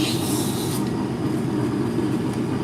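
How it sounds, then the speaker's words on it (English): A steady rubbing rasp of medium-grit abrasive against wood spinning on a lathe turned down to slow speed, with a constant low mechanical hum underneath. "Turn the lathe down and start sanding."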